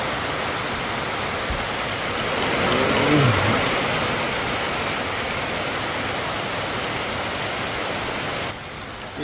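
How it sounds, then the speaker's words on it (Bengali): Heavy rain pours down in a steady, dense wash of noise close by, holding an even level throughout with no voices. "অনেক বৃষ্টি হচ্ছে"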